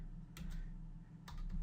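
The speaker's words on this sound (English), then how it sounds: "the first thing we want to do is type into our browser" Keys on a computer keyboard are tapped in two quick bursts of a few strokes each, close and clear over a low steady hum.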